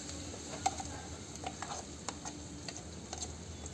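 Chutney stirred into a pan of sizzling tempering with turmeric while making renapala curry, a soft steady sizzle broken by scattered light spoon clicks and scrapes, close and fairly quiet, with no speech.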